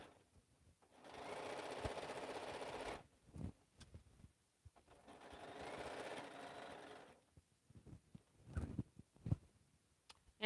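Sewing machine back-stitching fabric straps for a slouch bag, two steady runs of fast needle stitching of about two seconds each, separated by quieter handling clicks and taps.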